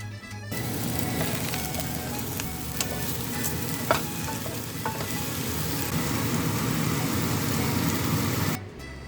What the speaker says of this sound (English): I'm gonna cook the mushrooms in a green onion garlic oil.